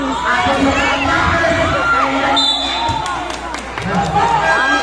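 A packed crowd at a local basketball game between Ambolong and Poblacion roars with cheers and shouts, loud and continuous, with a ball bouncing on the court and an announcer talking over the noise.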